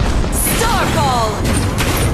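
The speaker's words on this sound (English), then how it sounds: "Your team has destroyed a tower!" A tower is destroyed in a loud booming explosion in a team battle video game, heard amid dense game effects with a voice speaking over the noise.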